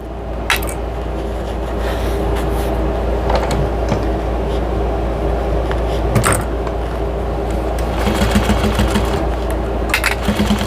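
Sewing machine stitching around the bottom edge of a fabric drying mat for a chicken basket, a steady close mechanical whir with brief pauses and clicks, no talking.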